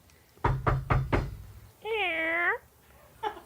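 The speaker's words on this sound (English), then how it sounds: "That's our cat." A house cat lets out one clear, drawn-out meow lasting about half a second, preceded by several sharp knocks and followed by a brief second sound, all close and fairly loud in a quiet room.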